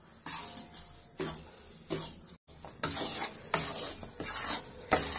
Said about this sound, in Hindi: यहाँ मैंने आटा डाल दिया है इसके अंदर 1 kg ही। इसको लगातार चलाते रहना है